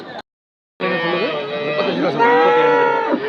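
A cow at a Saturday cattle market gives a long, loud, close moo that wavers in pitch, following a brief earlier call and a short pause.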